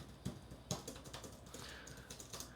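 Fingers type on the keyboard of an ASUS ProArt P16 laptop. The tactile keys give a steady, rapid run of soft clicks that stays faint and close, with no voices.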